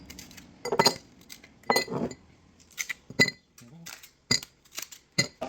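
Ice cubes clink against a coffee cup in several separate bright, sharp clusters, close and fairly soft, while someone makes a caramel iced coffee.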